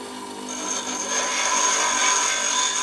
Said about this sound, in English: You can rough it on the rough stone, bring it across to the fine stone to finish it off.